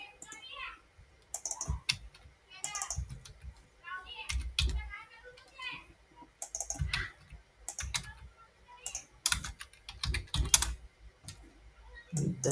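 A SQL case statement is typed on a computer keyboard, producing steady close runs of crisp keystroke clicks in uneven bursts, with a voice talking intermittently underneath.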